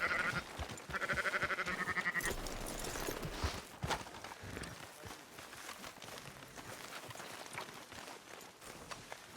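Sheep bleat several times in Red Dead Redemption 2, a few clear calls near the start and later softer ones, over scattered hoof and footstep sounds with no talk.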